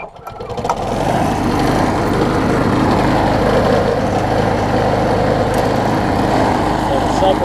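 A John Deere JS63 push mower engine starts up and settles into a loud, steady running roar that holds close and unbroken for several seconds.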